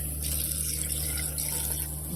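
Tap water runs steadily into a sink while something is rinsed during household cleaning, a close, constant gushing stream with no talking.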